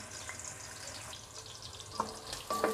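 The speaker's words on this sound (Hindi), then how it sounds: "कुकिंग पॉट में हम डालेंगे आधा कप ऑयल। मीडियम साइज़ की एक प्याज डाल देंगे इसमें।" A medium onion frying in half a cup of oil in a cooking pot for aloo methi, a steady close sizzle with a few light clinks and stirring scrapes toward the end, no talk.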